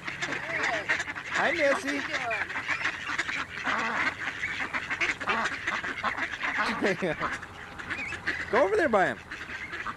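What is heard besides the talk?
ducks quacking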